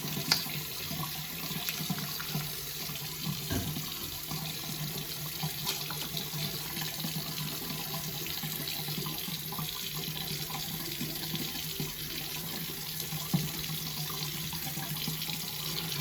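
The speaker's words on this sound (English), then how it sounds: "I'm running a new bowl of hot water" Hot water runs steadily from a tap into a bowl at a bathroom sink during a straight razor shave, a continuous close rushing splash with no talking.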